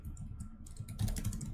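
Typing on a computer keyboard, with quick clusters of light key clicks close up against a low steady room hum and no voices.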